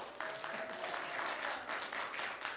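Concert-goers at a benefit music event give a brief, lively round of applause, a warm wash of many hands clapping at moderate volume for just over two seconds.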